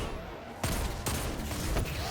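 Hand cannon gunfire in the video game Destiny, inside a legendary lost sector: a dense, sustained barrage with sharp shot onsets at intervals and loud broadband combat noise throughout.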